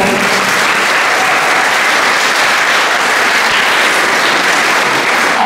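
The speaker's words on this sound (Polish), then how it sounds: "A już szczególne brawa dla rodziców klasy 8" Dense, steady applause from a crowd of parents at an eighth-grade school farewell ceremony, continuous clapping filling the hall without a break.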